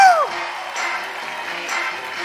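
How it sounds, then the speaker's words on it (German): Concert crowd in Berlin's Columbiahalle claps and cheers in a broad, steady wash after a brief shouted voice at the start, with scattered whoops rising above the applause. "Applaus für den Besitzer dieser Halle."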